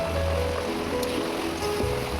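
Washed potatoes, jackfruit seeds and Malabar spinach stems go into a pan of frying spices, setting off a steady, hissing sizzle with a low background hum throughout.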